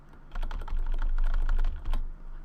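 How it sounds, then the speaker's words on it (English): The shift key on a computer keyboard is pressed repeatedly, a quick run of close, crisp clicks forming a fast irregular rhythm for a couple of seconds, with no talk. "the sticky key is if when you push the shift key continuously,"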